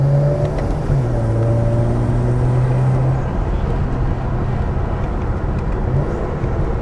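A 2019 BMW 335i with an N54 engine races a Porsche Boxster S at a roll race, a loud, steady engine drone with rising tones early on that gives way to a broad rushing roar, while someone talks.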